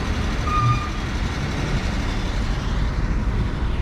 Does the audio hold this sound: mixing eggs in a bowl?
no